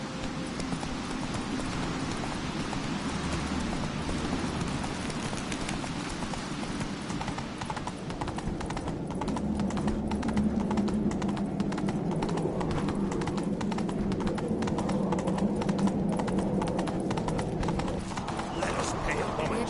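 Hooves of the horse Roach clip-clop steadily in The Witcher 3: Wild Hunt, a continuous rhythmic trot with low game ambience beneath.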